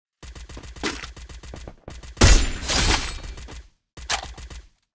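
Rapid automatic gunfire from the mobile shooter game Free Fire, loud and near, comes in regular bursts separated by short gaps, with a heavier blast-like crash in the middle.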